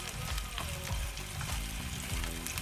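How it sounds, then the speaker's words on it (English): Onions and ginger fry in a pan on high flame for a tomato gravy base, a steady close hiss and crackle of sizzling oil with occasional stirring scrapes throughout. "we cook it till the onions become a little transparent"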